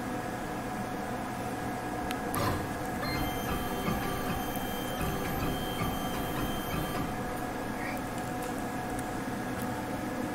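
A Langmuir Crossfire Pro CNC plasma table doing a dry run without cutting, giving a steady mechanical whir and hum that holds constant for the whole stretch, with faint tonal whines and no voices.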